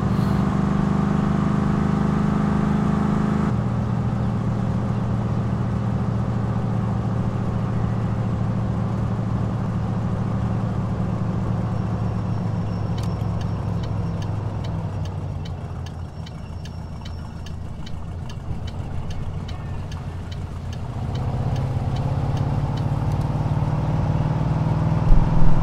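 In the game My Summer Car, a car drives on gravel with a steady engine drone that dips and then climbs again, and a faint crunching patter runs beneath it.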